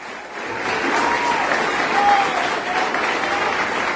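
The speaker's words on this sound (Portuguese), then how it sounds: "Você pode aplaudir o nome do Senhor." A church congregation applauds steadily through a Sunday worship service, a dense, sustained wash of clapping that swells slightly midway, with faint voices mixed into the crowd.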